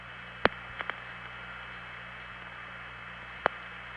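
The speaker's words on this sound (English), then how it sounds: "And here's an SP1 tandem." An SP1 long-distance telephone tandem switch processes a call, making a sharp click, two fainter ticks, and a second click three seconds later, all over steady line hiss and hum.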